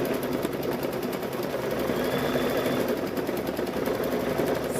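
An embroidery machine stitches a quilted apron with a continuous, fast, even mechanical whir and rapid needle chatter. It runs at a steady level with no talking.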